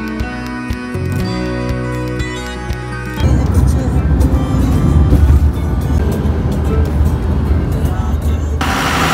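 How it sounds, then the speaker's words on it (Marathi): A truck and a car pass on a mountain road near Naneghat in Maharashtra. A tonal stretch gives way to a loud, rumbling roar of passing vehicles that stays close for several seconds. "ट्रक आलाय आणि तिकडे एकदम खाली गाडी गेली"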